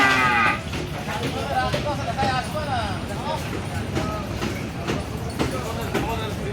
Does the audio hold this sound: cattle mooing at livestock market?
yes